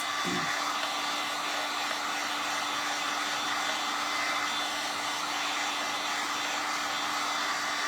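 A heat gun or hair-dryer-style blower warms a flexible WoodUbend moulding before it is glued onto a decorative wall frame, a steady close whooshing airflow hum running unbroken throughout with no talking.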